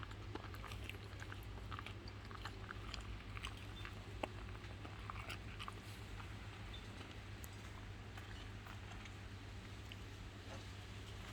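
A cat chews a snack, with soft, repeated biting and crunching close up over a steady low background hum, and no talking.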